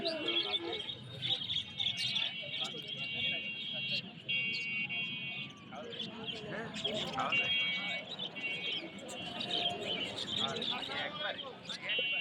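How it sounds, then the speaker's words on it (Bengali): Budgerigars, including lutino budgerigars, at a pet bird market in Khulna chirp and twitter continuously in high, busy bursts, with a murmur of market voices and background noise underneath. "এখানে কিছু বাজিকার আর এখানে কিছু লুটিনো বাজিকার আছে"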